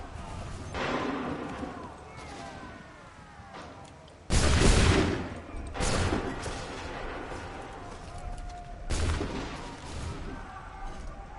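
Soldiers fire repeated musket volleys in the Assassin's Creed 3 video game, four loud cracking blasts spaced a few seconds apart, with shouted voices and a battle din around them.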